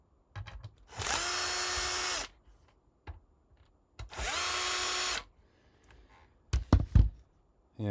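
A power screwdriver backs screws out of an Akai Force in two sustained, close whirring bursts of about a second each, separated by quiet pauses and followed by clicks and knocks as parts are handled.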